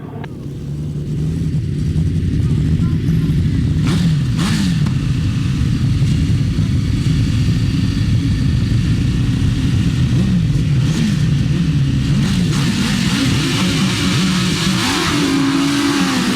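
Several grasstrack motorcycles race up the first straight at a 600cc grasstrack meeting, their engines a loud, continuous, rising and falling roar of revving that fills the whole clip.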